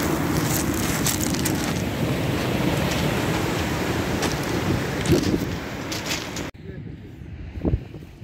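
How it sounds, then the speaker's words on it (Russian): Large waves over 10 metres high on the Sea of Okhotsk crash and roar, with wind buffeting the microphone throughout, before a sudden drop to a quieter background with a faint splash near the end. "Волна больше 10 метров."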